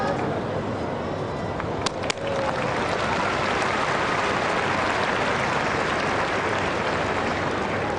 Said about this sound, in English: It's a little ripple of applause from this crowd that have decided to stay here